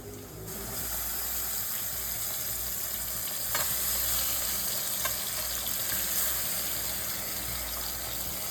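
Steady, loud sizzling of river fish frying in a hot pan, continuous throughout with a few faint clicks and stirs, no voices.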